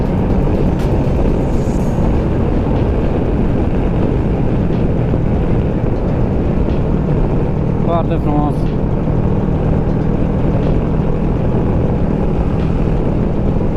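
Steady, loud engine and wind roar of a 2008 Kawasaki Versys 650 motorcycle on the move, continuous throughout, with someone talking briefly over it.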